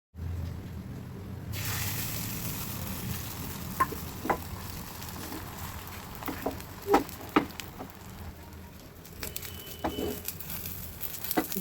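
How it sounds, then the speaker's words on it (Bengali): Eggs frying in a pan on a gas stove at home for dinner, a steady close sizzle with scattered crackles and utensil taps, no voices. "রাতে ডিনারের জন্য ডিম ভাজা চলছে"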